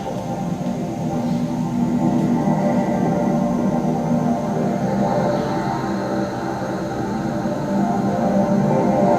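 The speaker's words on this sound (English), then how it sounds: "This is the sound of the bridge." A low, continuous rumbling drone with tonal hums and a faint high whine, steady throughout with no voices, like a large structure resonating under traffic: a bridge soundscape art installation in Portland, Oregon.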